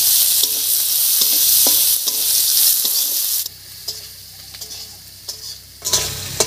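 Chopped onion hits hot oil already crackling with cumin, cinnamon and cardamom, a loud continuous sizzle broken by clicks and scrapes of a stirring utensil, then settling to a quieter fry with sharp taps near the end.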